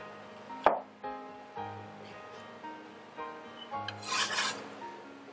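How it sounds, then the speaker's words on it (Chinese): Mushrooms being sliced on a cutting board for a shrimp and Shaoxing wine hot pot, giving soft knife chops and scraping rasps at a close, quiet level with no talk. "把菇啊先切好就放进去"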